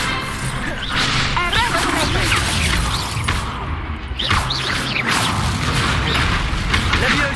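Incendio fire spell cast in Hogwarts Legacy combat, a loud whooshing flare with crackling bursts amid other spell impacts and swishes, dense and continuous, with a voice calling out spell names over the clash.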